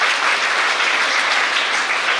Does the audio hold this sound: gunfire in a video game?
no